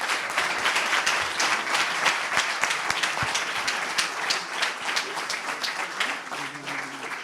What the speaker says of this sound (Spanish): un fortísimo aplauso para todos